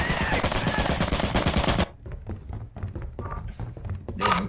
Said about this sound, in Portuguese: Tiro, cheio de tiro.